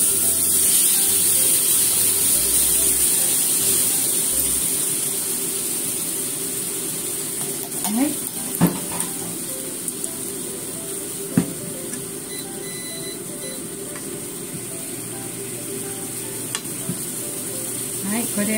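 Eggplant teriyaki sizzles steadily in a frying pan, a constant hissing fry with a few sharp clinks and stirring scrapes partway through.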